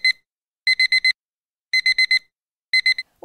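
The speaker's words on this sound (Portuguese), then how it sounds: "Um despertador?" Alarm clock ringing in repeated bursts of four rapid high-pitched beeps, separated by short pauses, loud and clear with nothing else heard.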